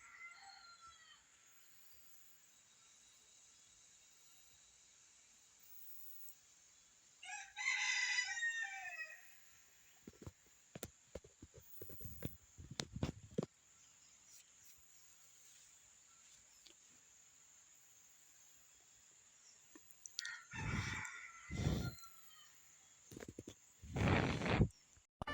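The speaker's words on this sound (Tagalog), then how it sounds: "Palitan sila ng tilaok ng manok na labuyo at saka yung aking pangati" Red junglefowl roosters and a decoy rooster take turns crowing at nine in the morning outdoors, one crow near the start and a cluster of loud crows toward the end, with scattered clicks and quiet stretches between.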